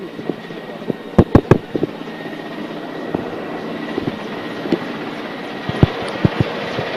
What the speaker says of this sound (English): that is the sound of the M117 IE helicopter ready